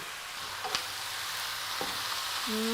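Pork belly stir-frying with ginger in a pan, a steady close sizzle with a few faint clinks and scrapes, and no talking.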